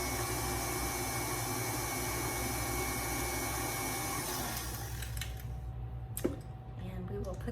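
An electric mixer gives banana bread batter with raw sunflower seeds a quick mix, a loud steady motor whir close by that cuts off partway through, followed by a faint clink.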